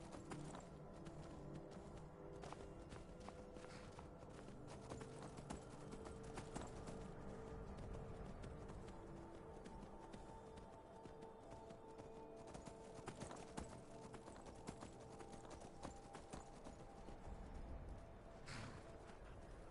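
Steady clip-clop of horse hooves plodding along at an even walking pace in the video game Skyrim Special Edition, moderately close, with a faint whinny and quiet background ambience.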